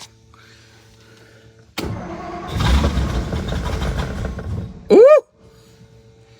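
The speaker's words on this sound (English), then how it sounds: "it sounds like we got a bit of an exhaust leak on that side" A 1956 Ford Thunderbird with an exhaust leak cranks and fires up, running roughly for a few seconds at close range before a short loud squeal and an abrupt cutoff, with a brief exclamation.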